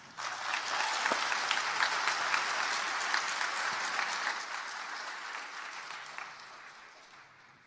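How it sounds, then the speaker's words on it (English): An audience at the PennApps XIII hackathon opening ceremony in Philadelphia bursts into sustained applause, dense clapping from a large crowd that holds steady, then gradually thins toward the end. "One more round of applause"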